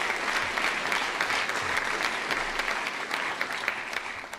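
A university audience at Northwestern gives a student advisor a round of applause, continuous crowd clapping, dense and even, sustained at a steady level from start to finish with no speech over it.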